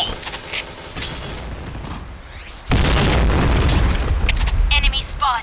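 A grenade goes off in a multiplayer shooter video game, a loud booming blast that bursts in midway and roars on for the rest of the moment, following game sounds and radio-style chatter.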